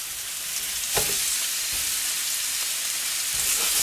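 Onions fry in a pan with a steady, close hiss and sizzle and a few soft stirring clicks. No one speaks.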